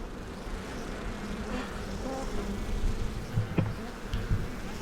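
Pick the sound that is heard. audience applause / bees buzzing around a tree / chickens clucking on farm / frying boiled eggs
bees buzzing around a tree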